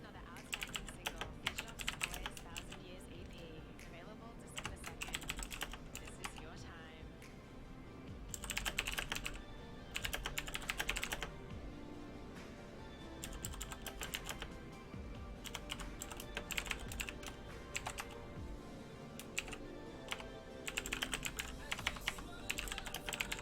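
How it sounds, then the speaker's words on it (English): Continuous computer keyboard typing in dense, irregular bursts of clicks, fairly faint, with brief quiet gaps over a low background murmur, heard during a gaming match. "if you hear me typing and not really talking, it's because I'm typing to you guys"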